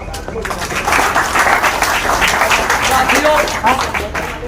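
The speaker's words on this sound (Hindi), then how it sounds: "जोरदार एक बार तालियों से" Loud, sustained applause from a crowd at a BSP party office meeting in Lucknow, dense rapid clapping filling the whole stretch with no speech over it.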